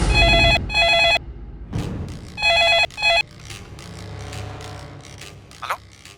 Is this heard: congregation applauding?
no